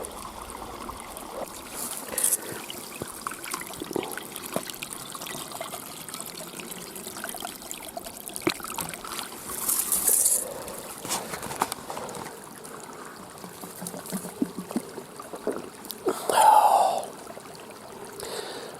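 Ice-cold spring water trickling and dribbling steadily nearby, with occasional splashes and small knocks over the continuous flow.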